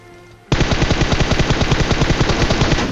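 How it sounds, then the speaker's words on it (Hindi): Automatic gunfire in the mobile game PUBG Mobile erupts after a short quiet moment into one loud, rapid, evenly spaced burst of shots that lasts about two and a half seconds, with no voices. "उनका कुछ फायर आया था जो कि मेरे को सुनाई देता है"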